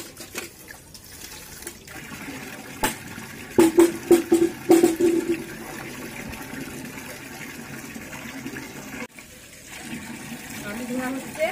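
Potatoes being washed by hand in water in a basin, with splashing and sloshing bursts near the middle over a steady wet background, close and moderately loud.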